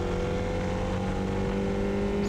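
A Formula Vee race car cruises at Lime Rock Park on a victory lap after taking the checkered flag, its engine droning steadily and closely at an even, moderate pitch with no voices.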